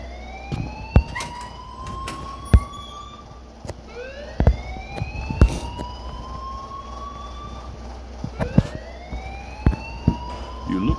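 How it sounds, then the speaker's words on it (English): An alarm wails in the video game Life Is Strange, rising and falling in repeated swooping siren sweeps over a steady low hum, with sharp clicks and thumps scattered through it. "please turn off that alarm since that's your job"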